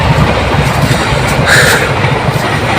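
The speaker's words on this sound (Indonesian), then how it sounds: "ini ganggu aja nih keretanya ya" A train passes close by with a loud, continuous rolling roar and rumble, and a brief brighter screech about midway through.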